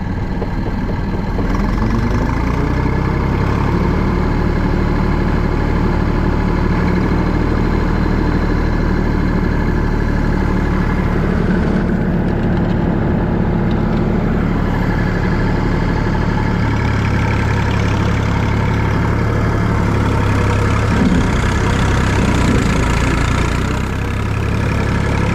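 A tractor fitted with twin wheels works soft ground in high first gear, its engine giving a steady, loud, low drone that holds throughout with no speech.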